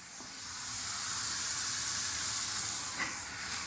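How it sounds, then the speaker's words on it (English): Steady, dense crackling sizzle like bacon frying in a pan, continuous and close, with a brief louder pop near the end. "the sound of rain is sizzling bacon or like sausage."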